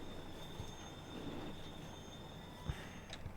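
Trains in the railway game Transport Fever 2 rumble faintly on the line with a steady wheel hum, a high squeal running throughout and a couple of soft clunks, all at low level with no voices.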